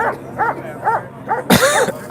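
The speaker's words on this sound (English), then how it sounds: "I can't believe they got dogs out here." Police dogs bark repeatedly outside a detention center in Broadview, Illinois, a series of loud, close, rhythmic barks ending in a burst of overlapping barking and whining.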